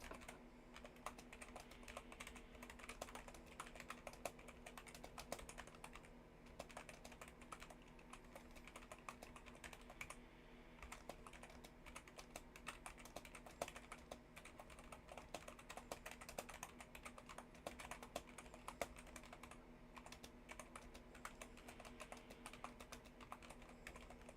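Steady typing on a computer keyboard continues for the whole stretch: quiet, rapid, irregular key clicks over a low hum, with no talking.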